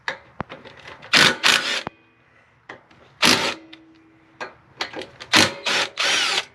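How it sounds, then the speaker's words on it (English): An impact gun removes bolts on a Baja Warrior CVT: several loud, close rattling bursts, each under a second long, are separated by short pauses and quiet clicks. "I've got a little bit bigger impact gun. Let's see if this will do it."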